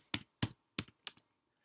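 Four distinct, sharp keystroke clusters on a computer keyboard, evenly spaced over under two seconds, close and fairly loud against silence, with no talking.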